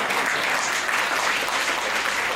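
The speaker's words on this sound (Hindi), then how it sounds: "बात दिल तक पहुंची हो तो तालियां बजना चाहिए" Audience applause at a live comedy show breaks out as a steady, dense wash of clapping, fairly loud and close, holding evenly throughout without any voices over it.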